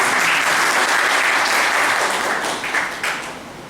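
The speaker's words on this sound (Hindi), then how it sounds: "एक बार इनके लिए भी जोरदार ताली।" A seated audience at a motivational business talk breaks into loud, dense applause, a thick wash of many hands clapping that holds strong for a few seconds before tapering off with scattered final claps.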